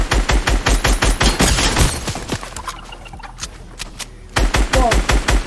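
Rapid bursts of gunfire in a Fortnite fight crack out in a fast regular rhythm, pause for a couple of seconds amid scattered shots, then resume loud and close.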